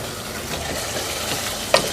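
Mutton liver frying and being stirred in a pan over low heat, a soft continuous sizzle with a single sharp utensil knock near the end, no voices.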